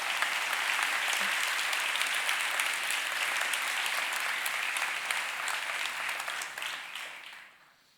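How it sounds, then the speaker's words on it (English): A keynote audience at the Total Chaos 2018 event applauds its partners and sponsors, a full, even wash of clapping from a large crowd that holds steady and then fades out near the end. "please give them applause"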